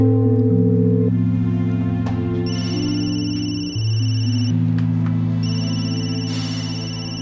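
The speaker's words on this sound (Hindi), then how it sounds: "हर वक्त इसका फोन बजता रहता है" A phone ringing inside a home in a dramatic series: a sustained electronic ringtone of steady, layered tones that plays on and on, loud and close, with no voices over it.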